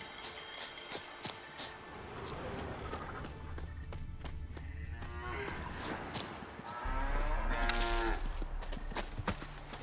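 Cow lowing in The Witcher 3, with a long drawn-out moo rising late in the clip over a steady outdoor game soundscape with hoof-like clops and rustling.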